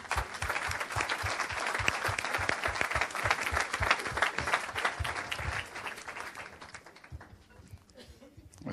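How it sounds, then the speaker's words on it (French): A church congregation claps together in dense, sustained applause close by, with a few voices mixed in. The clapping thins and fades toward the end. "On acclame le Seigneur pour ça."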